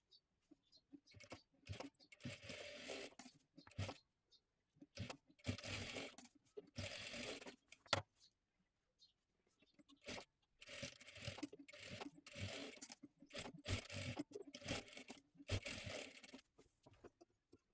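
A sewing machine runs a double line of stitching along a blouse neckline in repeated bursts of steady whirring, each a second or two long, separated by short pauses, close up with no talking.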